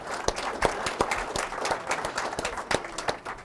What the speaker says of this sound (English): Let's give a welcome round of applause to Jeff.